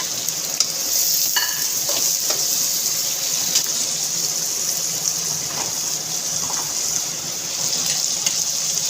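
Stew mixture with spices being stirred in a pot, a steady close sizzle and wet scraping throughout with occasional spoon knocks against the pot, no voices.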